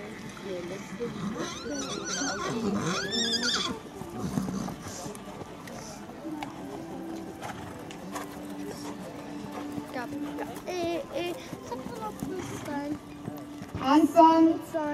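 Horses at a gallop in a riding arena during a Haflinger horse tournament, soft hoofbeats under an announcer's voice and a crowd, with a whinny near the end.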